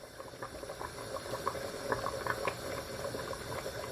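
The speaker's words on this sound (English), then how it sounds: "I'm gonna cover my pot, or just half cover it so it doesn't boil over" Stew peas simmering in a half-covered pot, giving a steady low bubbling with scattered soft pops, moderately close and continuous without talk.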